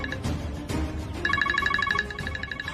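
A mobile phone rings with a short, repeating electronic tone pattern that comes in partway through, heard close over a faint indoor background hum.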